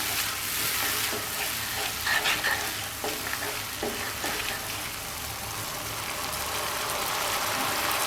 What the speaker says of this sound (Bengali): মশলাটাকে খুব ভালোভাবে কষিয়ে নেব আমি